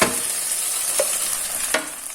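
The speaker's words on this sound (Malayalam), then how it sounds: "അരച്ചു വെച്ച മുളകും വെളുത്തുള്ളി ഉലുവ ഇതെല്ലാം കൂടി നമുക്ക് വരട്ടിയെടുക്കണം." Ground chilli, garlic and fenugreek paste being sautéed for a Kerala-style gooseberry (amla) pickle, giving a steady close hiss with a couple of sharp scraping stir clicks and no voices.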